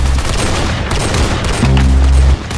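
Loud, dense video game gunfire with booming impacts, continuous over a couple of seconds with no talking.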